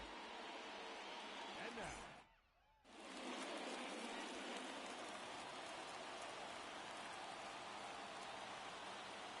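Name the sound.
rain falling in a video game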